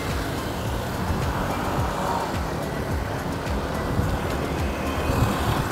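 Busy city road traffic in Jakarta's Sudirman area, cars and motorbikes passing close in a constant loud rumbling wash heard while riding, with no talk.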